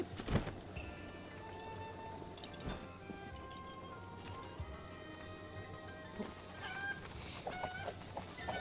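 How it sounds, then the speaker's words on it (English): Chickens cluck faintly and intermittently over a quiet ambient background, with occasional soft thumps, in The Legend of Zelda: Breath of the Wild. "Alright, let's go save the chickens."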